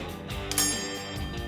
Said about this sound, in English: Oh, it rings the bell.